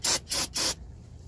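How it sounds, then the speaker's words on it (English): Three short bursts of brake cleaner aerosol sprayed onto the rear brakes of a Kia Sorento during a pad replacement, each hiss loud, close and about a fifth of a second long, then quiet. "Go ahead and spray it down with some brake spray."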